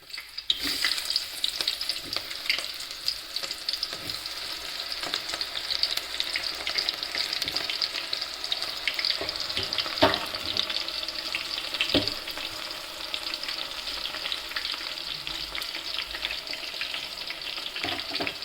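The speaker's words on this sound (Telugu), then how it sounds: "నేను కోసుకున్నవి ఉల్లిగడ్డలు పచ్చిమిర్చి గింత వేసుకుంటున్నా." Chopped onions and green chillies sizzle steadily in hot oil in a pan, a loud continuous frying hiss with occasional stirring scrapes and pops, close and without talk.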